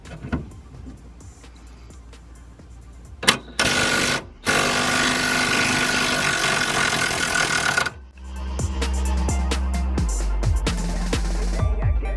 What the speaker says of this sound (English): using a reasonably, probably a mid-powered impact wrench, and like I said, 15mm socket, and you should get that out